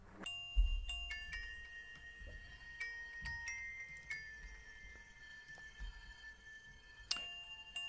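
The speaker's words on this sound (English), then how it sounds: "Basic bell sound, and it's made of two parts." A synthesized bell lead melody from a chillstep track, a series of bright, ringing bell notes with long sustained tails that overlap into a gentle, spacious tune at a soft, steady level.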